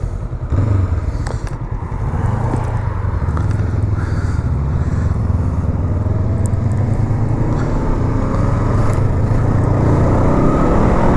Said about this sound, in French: On va laisser passer la voiture.